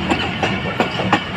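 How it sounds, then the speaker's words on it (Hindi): The Hazara Express pulls away from Reti railway station, wheels clacking in a regular rhythm over rail joints, loud and close with no voices. "हजारा एक्सप्रेस का 2 मिनट का स्टॉप दिया गया है, और इस वक्त रवाना हो चुकी है रेती रेलवे स्टेशन से"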